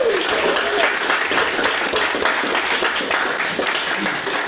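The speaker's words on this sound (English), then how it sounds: "Round of applause, let's go" An audience at a stand-up comedy show in a Dundee bar claps in a dense, steady burst of applause, a close, continuous patter lasting a few seconds with faint voices mixed in.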